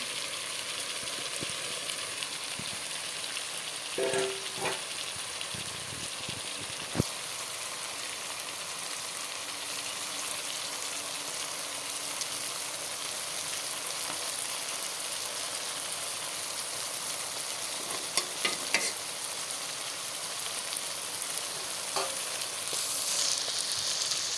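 Fish and tomatoes fry together in a pan for a Bengali chochchori, a steady broad sizzle running throughout at moderate level, with a few scattered knocks and clatters of stirring.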